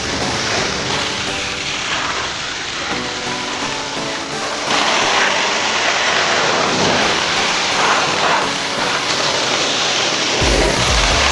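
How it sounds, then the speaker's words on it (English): High-pressure water sprays mud off the grille, headlights and bumper of a car left under flood water, a loud continuous hiss that shifts in tone partway through as the spray moves. "Washing off the grille, the headlights, and the bumper"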